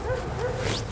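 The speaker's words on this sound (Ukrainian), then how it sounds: "Щось з собакою зовсім розгавкались." A dog barks and yips repeatedly in quick succession, fairly close, with whining tones between barks.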